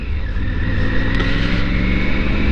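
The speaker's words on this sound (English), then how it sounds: "It just pulls forward a little bit on each downshift, which is a bit unnerving" Triumph Tiger 900 GT Pro or Rally Pro motorcycle engine running loud and close while downshifting with a quick shifter, a steady throbbing drone with slight pitch changes, no voices.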